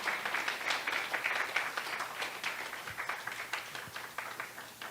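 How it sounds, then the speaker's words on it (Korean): A church congregation at a Sunday service claps in steady, rhythmic applause, a continuous crowd patter of many hands heard at moderate distance, softly sustained throughout. "선교사님 나오실 때 우리 큰 박수로 하나님께 영광 돌리며 맞이하겠습니다"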